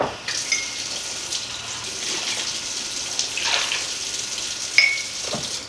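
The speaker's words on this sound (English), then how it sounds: "Then we're gonna add 2 cups of hot water." Hot water is poured into a cocoa powder mixture, giving a steady, soft splashing stream with a few brighter trickles and clinks near the end, no talking.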